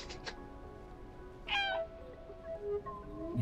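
A cat meows indoors, a few short, faint calls scattered among quiet background sounds, with one clearer, rising meow in the middle.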